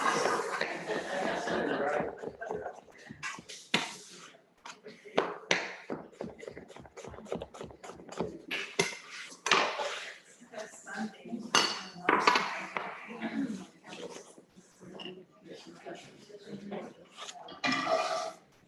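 A knife slices zucchini on a cutting board in a restaurant chef's demonstration. The cuts come as a long run of quick, sharp taps, steady at first and then irregular, with clinks of dishes and cutlery and a voice talking through it.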